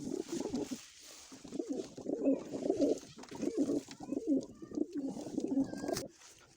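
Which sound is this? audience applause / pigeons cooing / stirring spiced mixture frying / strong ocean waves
pigeons cooing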